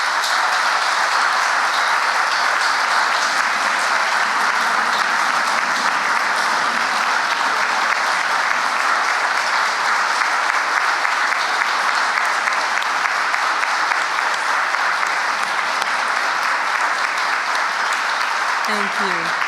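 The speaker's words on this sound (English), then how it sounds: "let's give them all a round of applause" Steady, dense applause from a large audience at a Hall of Fame induction ceremony fills the room, continuous and even throughout with no pauses.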